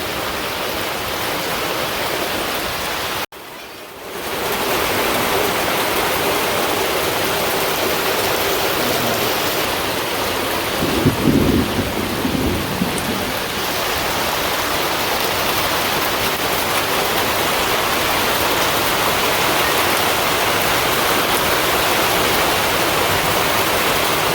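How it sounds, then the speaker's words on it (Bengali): Steady, dense village downpour hissing continuously on a tin roof across the whole stretch, with a brief dropout near the start and a slightly louder patter midway. "এই পাশে অনেকটাই জুড়ে যে বৃষ্টি নামছে"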